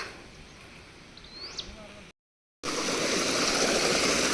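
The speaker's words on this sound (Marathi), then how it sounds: "इथनं पाण्याचा प्रवाह आहे कसला भारी" A cold mountain stream flows in hilly countryside. A quieter stretch with a brief bird chirp gives way, after a short cut, to a loud, steady rush of water close by.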